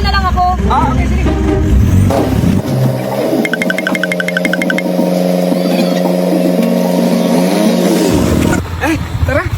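A motorcycle pulls up close by, its engine droning in a steady whine for several seconds before cutting off, with people chatting before and after.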